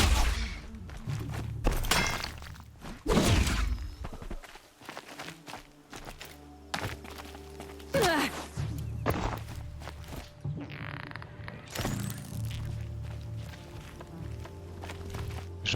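Footsteps and creaking movement in the video game Horizon Zero Dawn, a run of irregular thuds and scuffs with a few sharp louder impacts over a low ambient hum, no speech.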